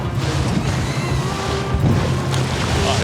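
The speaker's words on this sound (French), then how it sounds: "Il n'y a pas de vent, mais il y a des vagues." Sea swell rolls around a boat heading out of port on a windless day, a steady close wash of water and hull rumble with low engine drone, no talk.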